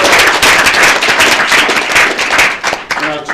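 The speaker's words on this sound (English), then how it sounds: "Y'all give them a round of applause." A crowd claps loudly and densely for a few seconds, the applause fading near the end.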